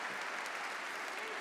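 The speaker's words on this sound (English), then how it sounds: "a big applause for my wonderful volunteer" A short stretch of steady, dense applause from an audience clapping for a volunteer, even and fairly loud throughout.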